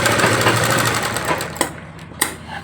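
A sewing machine runs steadily while stitching a blouse lining, a fast close whirring hum that slows near the end, with two sharp clicks as it stops.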